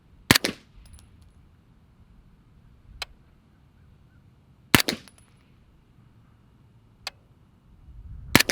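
Three sharp gunshots from a SIG MPX fired outdoors at a range, spaced a few seconds apart, each loud and crisp with a short tail, plus faint ticks between them.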